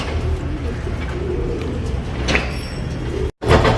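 Pigeons kept for tournament flying coo in a low, continuous, rolling murmur, with soft rustles and a brief gap near the end.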